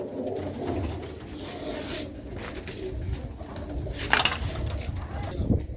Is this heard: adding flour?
no